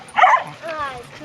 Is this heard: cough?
no